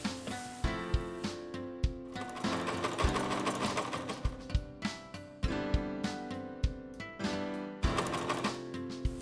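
A sewing machine stitching along Velcro runs close up in quick rhythmic bursts, a steady mechanical whirring with repeated stitching clicks, pausing briefly and starting again.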